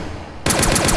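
A gun fires in rapid automatic bursts in a video game, a dense stutter of shots kicking in abruptly halfway through after a quiet rumble, close and loud with no voices.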